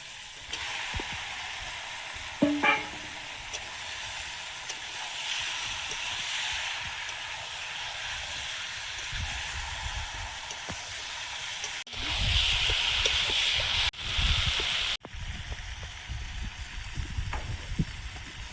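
Meat added to spiced masala in a pan frying with a steady hiss and sizzle, a louder burst of spattering partway through, with occasional stirring clinks and no talking.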